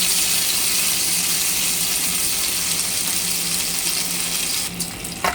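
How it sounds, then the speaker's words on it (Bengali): Koi fish frying in hot oil produce a loud, steady, hissing sizzle that fills the whole stretch, easing slightly near the end as a few soft clatters come through. "এভাবে মাছটা কিছুক্ষণ ভাজবো"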